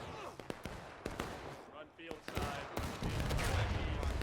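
Artillery shells landing in a multiplayer Civil War video game battle between Union and Confederate sides, loud booming impacts mixed with scattered gunfire and a rising rumble toward the end, with voices in the background.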